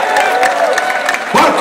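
Crowd at MMA fight weigh-ins in Abu Dhabi cheering and applauding, a dense continuous wash of clapping and shouts with a speaking voice over it, swelling louder near the end.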